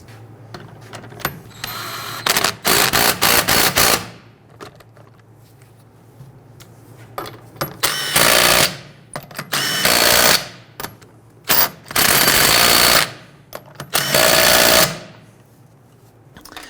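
Power tool snugging down lug nuts on a 2006-2012 Toyota RAV4 wheel, several loud rattling bursts of a few seconds each separated by quiet pauses, close up with a low hum between.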